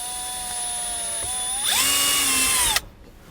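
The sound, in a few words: drilling through panel for brake controller switch mount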